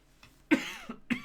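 Three quick, quiet coughs come close to the microphone in short, uneven bursts during a Japanese mahjong game.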